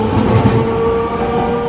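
A Sapporo streetcar passes on a city street, a loud, continuous rumble with a steady electric motor whine, close by and with no talk.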